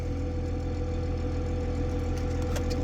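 A Case 210 Magnum tractor engine idles with a steady, close, low rumbling drone and no noticeable change in pitch.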